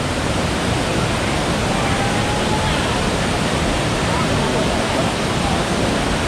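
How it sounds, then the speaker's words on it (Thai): A waterfall at a reservoir rushes as a dense, loud, unbroken roar of flowing water, close by and steady throughout. "น้ำใสแต่ก็น้ำไหลด้วย"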